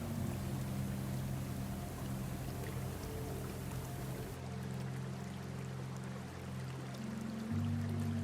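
Water flows steadily over small stones and smooth pebbles between patches of grass, a continuous close, even wash with no voices.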